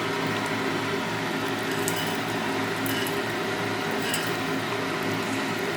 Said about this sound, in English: I'll rinse it off with a little bit of distilled water here.